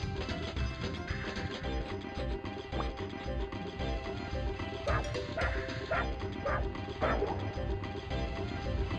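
Dalmatian puppy barks from the PS1 game 102 Dalmatians: Puppies to the Rescue, a run of close, yappy bow-wows and yips over steady game music, with a few sharp crashes.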